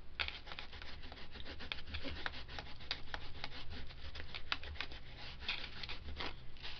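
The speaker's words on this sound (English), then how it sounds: "We're going to rub through it and try and remove some of the color." Rubbing through a Tim Holtz stencil to lift color from a mixed media tag, a close, continuous scratchy back-and-forth scrubbing with quick irregular strokes.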